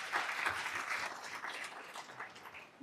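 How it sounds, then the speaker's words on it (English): Conference audience applauding baby boomers, a moderate, fairly distant patter of many hands that gradually thins out toward the end, ending in a brief loud knock. "Let's give the baby boomers a round of applause."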